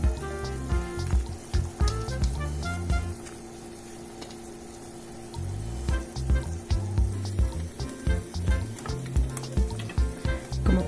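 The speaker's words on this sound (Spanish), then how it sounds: "ya está hirviendo nuestro caldillo, entonces procedemos a incorporar nuestras bolitas de carne" Meatballs dropped into boiling broth for homemade albóndigas, a bubbling, sizzling simmer with several soft plops and stirring knocks early and late, a calmer steady simmer in between, no speech.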